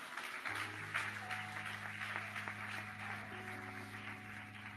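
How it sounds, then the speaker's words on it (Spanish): Church congregation applauding during a sermon, a soft spread of clapping running beneath a steady sustained organ or keyboard chord. "Denle un aplauso al Señor."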